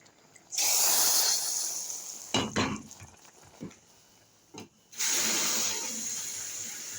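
Fried garlic tasha hits hot molokhia with a loud sudden hiss that fades, a few clinks and splashes follow, then a second strong sizzling burst rises and lingers.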